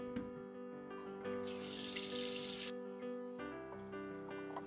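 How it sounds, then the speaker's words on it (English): Running tap water washes a bunch of choy sum in a kitchen sink, a steady close gush that swells into a louder splashing burst as the greens are rinsed, with background music playing and no talking. "Give the vegetable a good thorough wash."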